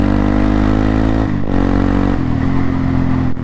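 A quad bike engine on ice and snow revs loud and close, holding a steady buzzing drone, then dropping in pitch twice as it shifts or eases off the throttle.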